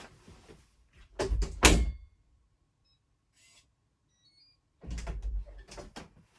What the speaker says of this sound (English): we can close the door and make sure that the door is operating correctly.